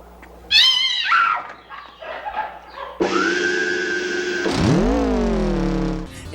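Cat jump scare from the 1986 horror film Chopping Mall: a sudden sharp yowl near the start, followed by loud, harsh, sustained tonal film sound effects that swell and bend.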